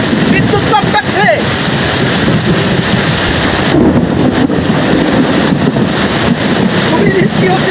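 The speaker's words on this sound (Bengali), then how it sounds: "আকাশে শুনতে পাচ্ছেন বিদ্যুৎ চমকাচ্ছে।" Heavy rain pours steadily during a village thunderstorm, with wind buffeting the microphone and low rumbles of thunder rolling underneath.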